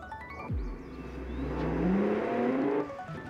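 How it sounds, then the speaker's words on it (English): A fast truck in the BeamNG driving game, a simulated engine dropping sharply then revving up in a rising whine that builds and fades over a few seconds, fairly faint with no voices. "Oh my god, this is a fast truck."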